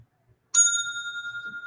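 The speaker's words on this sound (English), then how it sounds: "Thank you for the bell. Went off when it came up." A single bright bell ding from a live-stream super chat alert strikes suddenly after silence and rings on with a clear, sustained, slowly pulsing tone, close and fairly loud with no voices.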